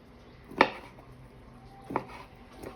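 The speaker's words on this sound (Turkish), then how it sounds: "Şimdi portakallarımı doğrayacağım." Two sharp knife chops through oranges on a cutting board, spaced over a second apart, close and fairly crisp, with quiet room sound between.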